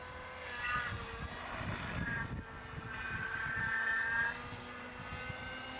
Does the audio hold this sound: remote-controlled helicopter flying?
yes